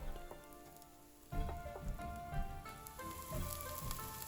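Green chillies drop into a hot pan of softened aromatics for shrimp molee, and a soft, steady sizzle swells up suddenly and crackles on quietly, close by with no talking.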